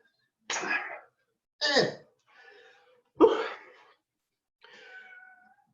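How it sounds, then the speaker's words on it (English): A cat meows loudly in a series of five separate cries, some sharp and rising, others softer and drawn out, close and alone without talk. "It's just meowing really loud"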